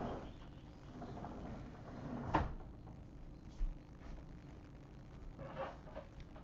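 A sliding glass door is opened to let a cat in, giving a faint rumbling slide with one sharper knock and a few soft bumps, quiet and without talk.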